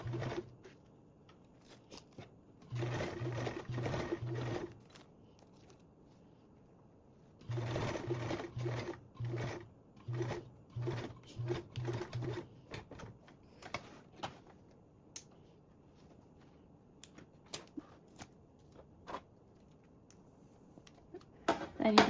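A sewing machine stitches a pocket onto a duffle bag with a narrow seam, in two close, busy runs of rapid whirring. Scattered clicks and handling taps follow in the quieter stretch.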